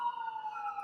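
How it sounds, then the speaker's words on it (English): An emergency vehicle siren downtown holds one steady, wailing tone for under a second, loud and fairly near, with no voices over it. "There's something about those sirens."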